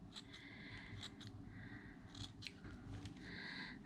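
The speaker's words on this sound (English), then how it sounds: "when you've peeled it off your whatever you're working on, you can just trim off all those loose ends." Scissors trim loose wool fibre ends from a needle-felted mouse ear, producing a quiet series of soft snips against a low background hum, with no voices.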